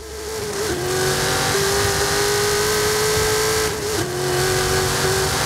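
A 1968 Pontiac Firebird revving hard during a drag race in Forza Horizon 5, a loud, sustained engine tone climbing and holding high with brief dips at gear changes, close and alone.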